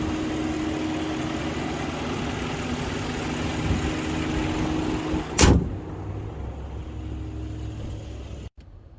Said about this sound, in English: Stuffed underneath this massive plastic cladding is that bi-turbo V8.